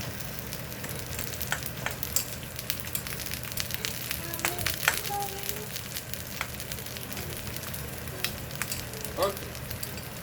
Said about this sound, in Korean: 면을 여기다 흩어고 있죠 그리고 끓이고 있습니다